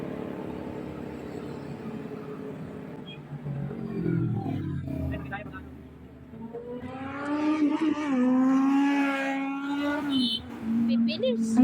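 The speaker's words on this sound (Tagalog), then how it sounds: "Ang ganda nung tunog ng muffler niya" Motorcycle exhaust through an aftermarket muffler on a mountain highway, a low rumble that swells into a revving, rising roar, close and loud, with a rider talking over it.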